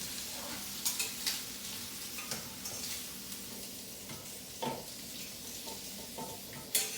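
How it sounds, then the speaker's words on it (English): Shrimp being lifted out of a frying pan with faint oil sizzle underneath, punctuated by soft scraping and clinking of a utensil against the pan at irregular intervals. "So right now I'm just going to take the shrimp out."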